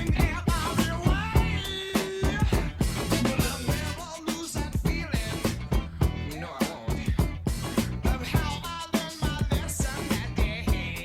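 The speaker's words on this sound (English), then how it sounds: "Here goes what it sound like normal with the instruments." A funk beat plays with full instruments, with punchy drums driving a steady groove under layered melodic parts, fairly loud and continuous throughout.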